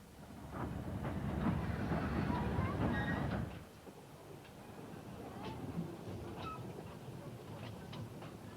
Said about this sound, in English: The train leaves Pendrae Station and begins to enter the lovely countryside.